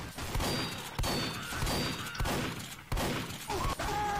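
Bursts of gunfire from a minigun in Team Fortress 2, loud and close, with sharp impacts and crashes repeating roughly every half second to a second over continuous game noise.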